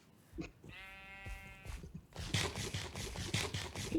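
A Minecraft sheep gives one clear, wavering bleat, followed by scraping, shuffling game sounds in the background.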